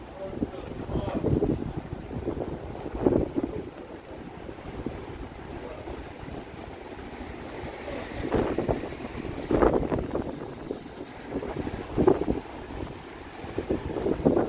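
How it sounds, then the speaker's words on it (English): Wind buffets the microphone at Toronto Harbourfront in stormy weather, a continuous low rumble that swells into loud gusts around the start, middle and end, with faint water and harbour ambience underneath. "Just had more wind. Gone, wind, be gone."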